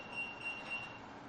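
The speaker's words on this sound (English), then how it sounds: "excuse that beeping, someone's coming through the front door." An electronic door chime gives three short, thin high-pitched beeps in quick succession as the front door opens, faint and indoors with no talking.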